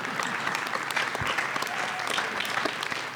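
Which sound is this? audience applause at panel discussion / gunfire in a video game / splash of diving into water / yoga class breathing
audience applause at panel discussion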